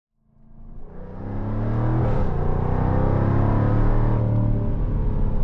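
A 2024 Jaguar F-Type R75 pulls away on the road, its engine rising from quiet to a loud, steady drone as it builds speed, then holding a strong cruising note, with no talking.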